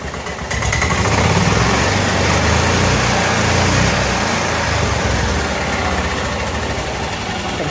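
A 1988 Club Car golf cart's small engine, with new carburetor and fuel pump, revs up loudly, holds a steady high roar, then eases back toward a lower idle, running continuously with no talking.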